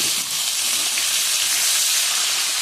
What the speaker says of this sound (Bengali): একটু ভাজা হয়ে গেছে, দিয়ে দিলাম আলু।